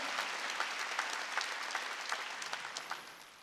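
Congregation applause at a Wednesday church worship service, a steady wash of many hands clapping with scattered sharper claps, sustained throughout and slowly fading toward the end.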